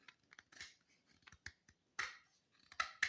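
Sharp, brief snips and scrapes of a knife blade slicing through material to thin an area, several separate cuts spaced unevenly, close and fairly quiet.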